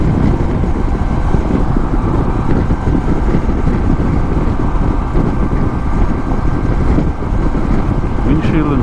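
Steady wind roar while riding a motorcycle at about 75 with the windshield raised to its higher position, a constant dense rush that stays even and loud throughout.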